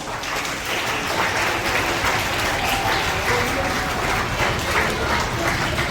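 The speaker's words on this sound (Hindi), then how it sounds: "एक बार संविधान दिवस के लिए जोरदार तालियां।" Students and guests at a Constitution Day gathering applaud, an even, sustained burst of many hands clapping that fills the room at steady volume.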